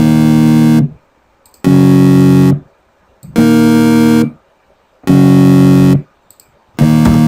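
Four loud, buzzy synth chords with rich harmonics, each held under a second and separated by short silences, with a fifth beginning at the end.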